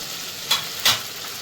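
Prawns frying in a pan with chilli powder and green chilli paste give a steady close sizzle, broken by two louder hissing bursts as the spice paste is stirred.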